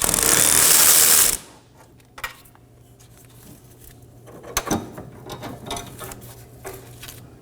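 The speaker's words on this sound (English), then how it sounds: "We're going to remove our left rear fuel tank strap 16mm bolt. Break it free and remove it." A ratchet backs out a 16mm fuel tank strap bolt on a 2015-2023 Nissan Maxima 3.5L V6. A loud burst of power-tool whir opens the sound, then a quieter run of close, uneven ratchet clicks and metallic taps follows, with no voices.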